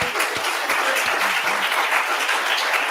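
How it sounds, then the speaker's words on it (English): Audience at a live political breakfast event applauding: a continuous, fairly loud burst of clapping from a room full of people, steady throughout with no talk over it. "So give yourselves a round of applause for that."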